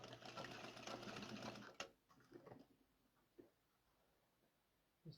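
A sewing machine stitches over a spot on a one-piece pair of pants, running in a fast continuous whir for nearly two seconds, then stopping, followed by a few faint clicks and handling taps.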